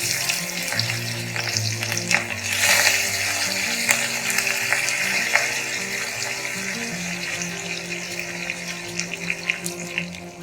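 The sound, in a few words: curry leaves frying in ghee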